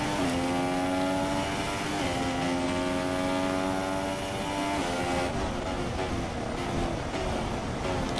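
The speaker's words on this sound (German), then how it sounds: "die Autos, die neben ihnen fahren, die hören sich immer kaputt an. Das ist vor allem der Honda." A Honda Formula 1 car in the F1 2016 racing video game, its engine sounding broken, droning loudly with steady rough buzzing tones that shift pitch between gears throughout, no talk.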